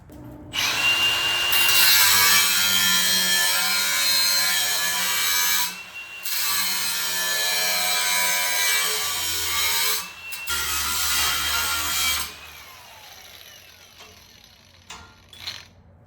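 A harsh, loud power-tool grind rasps through a Ford F100 truck's steel frame in long bursts with brief pauses between, then stops, leaving a few faint knocks.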